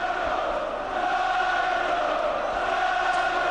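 Boxing arena crowd at the Steve Collins versus Nigel Benn WBO super-middleweight title fight, a steady loud roar of massed voices with a faint chant-like swell running throughout.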